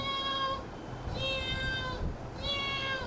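A human voice imitates a cat meowing, giving three drawn-out, cat-like meows in a steady sequence, fairly close and clear over a low room hum, with no other speech.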